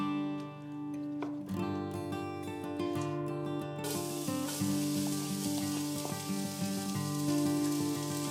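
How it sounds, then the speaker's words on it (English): Onions, garlic and mushrooms sizzle steadily in olive oil in a pan, a continuous close frying hiss that swells louder partway through, no talking. "Cook it in some olive oil until the onions and mushrooms have wilted"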